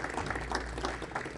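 Audience applause for a poet at an Urdu Academy of North America tribute to Momin Khan Momin: a steady, dense wash of many hands clapping at moderate volume, continuous throughout with no talk.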